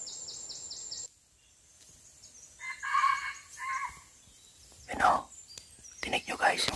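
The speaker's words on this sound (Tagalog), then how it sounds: "may tilaok." A rooster crows in the distance, faint and brief, amid quiet outdoor ambience with some soft rustling and murmuring, during a hunt.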